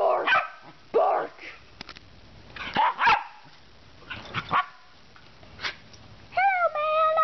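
A dog barks in short, loud bursts spread across the stretch, aimed at another dog, with a few higher whining yips near the end and a person talking in between.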